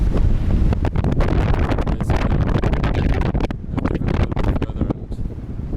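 Heavy gusts batter the microphone in loud, rumbling bursts on Namibia's Skeleton Coast, a harsh, close wind noise that barely lets up.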